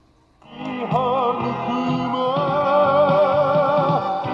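Music plays back from an old Aiwa TPR-301 portable cassette radio, starting after a brief silence and continuing steadily, slightly muffled and warbly.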